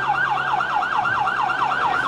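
A SAMU ambulance siren during a street protest in Campinas, a loud, close wailing tone sweeping up and down rapidly and evenly, with no voices.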